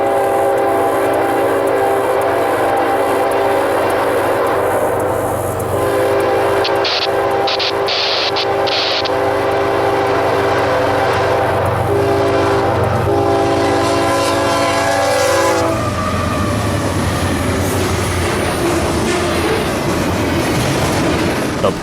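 Norfolk Southern freight train 229 rolls past close by in rural Florida, steady wheel rumble and clatter on the rails, with a loud horn blast partway through.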